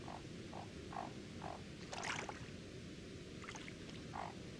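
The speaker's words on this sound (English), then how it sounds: "His voice sounds a little like a snore, but his croaks attract a female to the pond." A male frog at a breeding pond gives a snore-like mating croak, several short rhythmic calls repeating over a steady background hum, with a few brighter splashy bursts in between.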